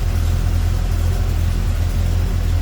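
The engine of a 1972 Chevrolet Chevelle Malibu convertible idles smoothly and steadily with a deep, even low rumble, loud and close, with no talking over it.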